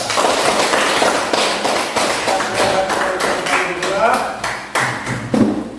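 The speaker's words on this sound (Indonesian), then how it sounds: "Mari kita tepuk tangan." A class group claps in a burst of dense, overlapping applause after a group presentation, with some voices mixed in.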